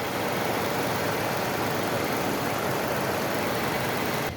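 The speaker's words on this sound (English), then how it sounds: "with the motor running" A 2018 Hyundai Elantra engine idles with a steady, even rumble and hiss that holds at a constant level throughout, close to the car, with no voices.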